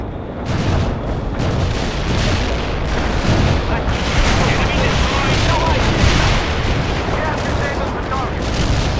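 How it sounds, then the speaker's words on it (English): Artillery strike explosions in the World in Conflict video game: dense, continuous barrage of booms and blasts, loud and close, layered over about nine seconds. "Artillery strike completed."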